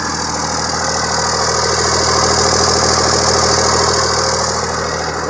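A 2001 second-generation Dodge Ram Cummins diesel pickup with a six-speed idles steadily, a loud, close, even rumble with constant clatter and no voices.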